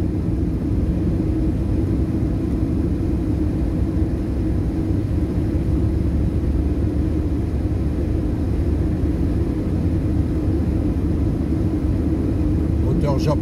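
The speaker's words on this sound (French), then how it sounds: "Écoutez le moteur." A 2002 Mitsubishi Colt 1.3 16V GTI idles steadily outdoors on a rainy day, a continuous low engine rumble holding an even, loud level from start to finish.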